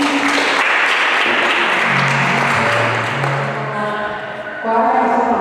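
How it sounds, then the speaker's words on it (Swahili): A church congregation applauds after a sermon reading, steady dense clapping that carries on loudly throughout, with a voice and tonal sounds rising beneath the clapping near the end. "Tuwapigie makofi."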